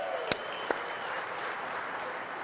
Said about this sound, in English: Let's give a round of applause to Joe and his team